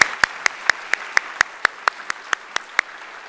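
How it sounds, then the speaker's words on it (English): Slow, evenly spaced claps ring out in a large hall during an academic year inauguration ceremony at an engineering faculty, about a dozen sharp reverberant strikes at a steady beat over a quiet background. "Please all stand up and, yes, applause"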